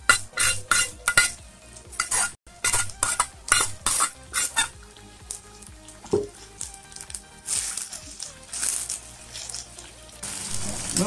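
Curry leaves and onions, fried beforehand, being stirred into dry-cooked Dubai-style chicken in a metal pan, with repeated loud scraping and clinking of a utensil against the pan and a faint sizzle underneath; no talking.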